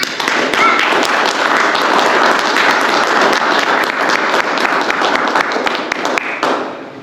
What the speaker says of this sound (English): Let's have a round of applause for Master Sergeant Doyle.